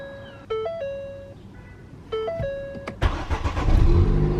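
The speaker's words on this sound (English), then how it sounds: "I'm just going to start the car." After a series of electronic chimes and beeps, a Ford Fiesta ST180 engine cranks and catches, settling into a close, rumbling idle.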